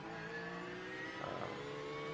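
Porsche GT3 race car engine in an IMSA GT3 racing video game at Long Beach, a steady mid-pitched drone held at constant revs with a brief rise near the middle, close and continuous.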